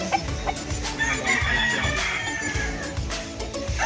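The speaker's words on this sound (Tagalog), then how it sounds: "alam mo ba kuya yung mga lahi ng mga manok?" Chickens on a farm in Pampanga, including large breeds, clucking and crowing steadily throughout at close range, with repeated bursts of calls layered over one another and no talk.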